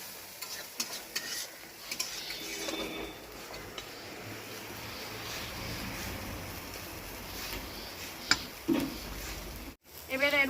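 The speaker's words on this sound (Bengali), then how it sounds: "এবার একদম অল্প আঁচে ভাজবো আমি মূলো শাকটা।" Radish greens with green chillies frying on low heat in a pan, a continuous soft sizzle with stirring scrapes, brief clinks near the end and faint background sounds.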